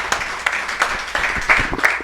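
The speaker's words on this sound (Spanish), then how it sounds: "Pues dale un fuerte aplauso al Rey de Reyes por sus maravillas" A congregation at a church service claps in scattered, uneven bursts, with a handful of sharp claps spread out rather than sustained applause.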